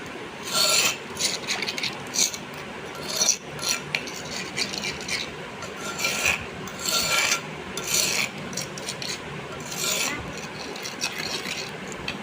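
Rough, repeated grinding and scraping strokes in an uneven rhythm, close up, like a pestle working ingredients in a bowl, with no talking.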